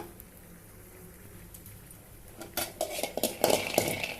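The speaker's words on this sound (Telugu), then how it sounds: "కొంచెం వేరుశనగపప్పు ఫ్రై చేసుకున్నాము పొడి కోసము" Peanuts being dry-roasted in a pan for a spice powder rattle and clink against the metal as they are stirred, faint at first and then a busier, louder scraping and tapping toward the end.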